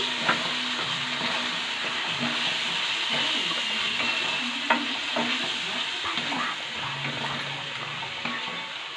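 Onions with ginger-garlic paste sizzle steadily in a pan, a continuous frying hiss with scattered soft stirring scrapes, close and alone without talk.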